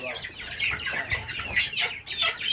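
Domestic chickens kept at home cluck in a steady, overlapping chatter, close and moderately loud, with no talk over them.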